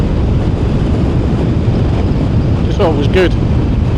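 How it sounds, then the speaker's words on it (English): Wind buffeting a microphone while riding a Kawasaki ZZR1100 motorcycle, a loud continuous roar with engine rumble beneath, and someone speaks briefly over it. "Good thing about being a bit of wind in the air is you don't get the"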